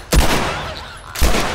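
Two sharp gunshots from a pistol in the video game The Last of Us Remastered ring out about a second apart, each followed by a brief echoing tail.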